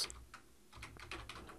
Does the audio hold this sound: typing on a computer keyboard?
yes